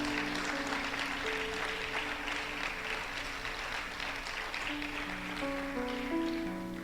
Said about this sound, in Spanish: ¿Le das un aplauso a la palabra del Señor?